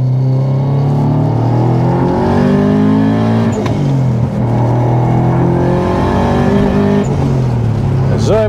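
A 500HP, 2500cc Subaru Impreza GC8 with a Stage 3 tune revs hard and close, a loud, continuous engine drone whose pitch rises and falls across gear changes while people talk over it.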